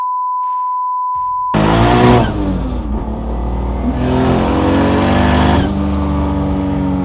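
A Toyota FRS with a swapped 2JZ engine roars loudly at close range, its tires squealing under hard throttle through a sustained, strained engine note after a brief tone at the start.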